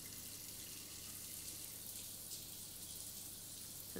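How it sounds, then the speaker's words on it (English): A shower runs in a short film, giving a faint, steady hiss of falling water with no voices over it. "Shower's going."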